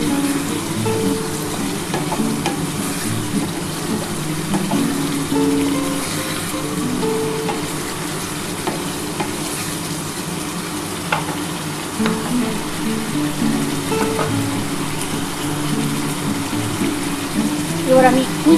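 Masala spices frying in oil for a Bengali chana dal dhokar dalna, a steady crackling sizzle with scraping stirring strokes throughout, close and fairly loud.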